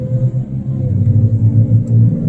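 A car engine with an exhaust leak idles in a steady low rumble close by, its uneven throbbing pulses holding constant without any revving.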